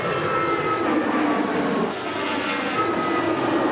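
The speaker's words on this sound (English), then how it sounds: "On a runway just yards from the recovery effort, planes come and go once more." An airplane on a runway, its engines roaring loudly and steadily nearby, a continuous drone with a slight dip midway, no voices.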